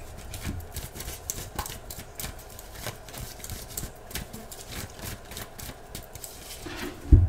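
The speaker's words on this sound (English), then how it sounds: "Let me shuffle for you." Rapid, dry riffling and soft slapping of tarot cards being shuffled, a steady clatter of short taps up close, ending with a louder bump.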